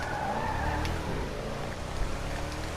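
An Ubermacht Rebla GTS SUV in the GTA Online video game accelerates with a continuous engine roar rising in pitch, alongside faint tire noise and a few brief clicks, heard alone without talk.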